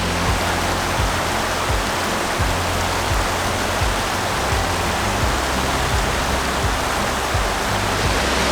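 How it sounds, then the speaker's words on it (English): A mountain creek pours from the outflow of Evolution Lake in a steady, dense rush of water, close and loud, unbroken throughout with no voices. "This is actually the outflow for Evolution Lake."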